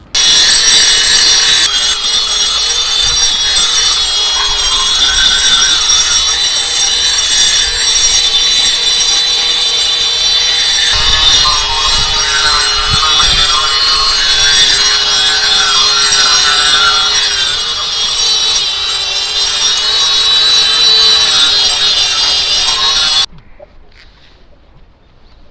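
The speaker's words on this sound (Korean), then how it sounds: "페인트가 이렇게 떠 있는 부분들은 전부 다 그라인더로 갈아서 하도 작업 후 페인트 작업 진행하도록 하겠습니다" An angle grinder grinds lifted, flaking paint off a leaking roof, a loud continuous harsh whine with shifting grit that runs steadily for over twenty seconds before cutting off abruptly.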